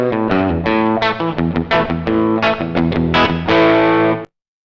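Distorted electric guitar run through the reverb of a Tech 21 Richie Kotzen RK5 v2 Fly Rig set to its larger size, with busy picked phrases and chords played loud and continuous, then an abrupt cutoff.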